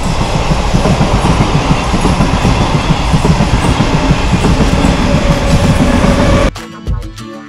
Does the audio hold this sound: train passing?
yes